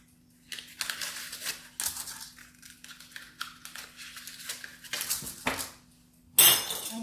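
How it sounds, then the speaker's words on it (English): A spoon scoops almond mixture for cherry almond buns and taps it into paper muffin cases in a metal tray, with bursts of scraping and clinking between quiet gaps, close and clear. "And we'll put the almond mixture in each muffin case"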